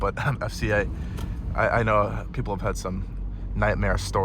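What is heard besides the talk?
No everyday noise stands out behind the speech.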